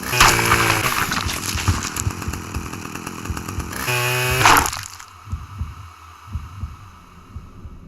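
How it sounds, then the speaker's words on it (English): Chainsaw kill in the video game Manhunt: a loud, throbbing, revving saw grinds continuously for about five seconds with a rhythmic pulsing beat, then cuts off, leaving low thumping music and faint ambience. "Cash silences him the only way this story could end, with a chainsaw."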